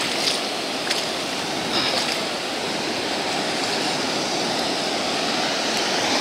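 Ocean water washing in along a shore, a steady broadband rush of surf that stays loud and continuous throughout, with a few brief splashes rising above it and no voices.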